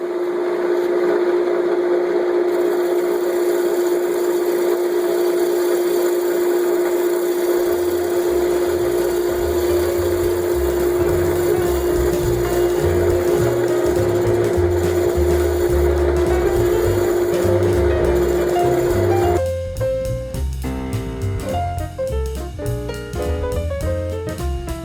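Shear scraping a spalted maple three-sided bowl on a wood lathe: a steady, loud motor whine runs throughout under a continuous rough scraping noise, and the texture shifts abruptly near the end.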